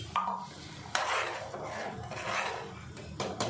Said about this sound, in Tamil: இப்போ நம்ம ரவையை போட்டுடலாம்